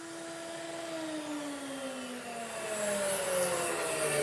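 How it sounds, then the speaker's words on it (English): A handheld router cuts a shallow mortise in a wooden rail for a garden bench. It gives a steady, fairly faint motor whine that drifts slowly down in pitch over a few seconds, with no voices. "Route this mortise a 1/4 inch deep in several passes."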